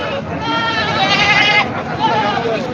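A Kota breed goat at a large goat market in Parbhani, Maharashtra, gives one loud, close, drawn-out bleat over busy market background noise.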